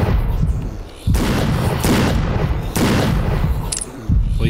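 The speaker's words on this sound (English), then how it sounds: "Well, you can at least shoot." Gunfire in the video game Glitch Simulator 2018, loud, close bursts of shots repeating in several clusters about a second apart, with no talk over them.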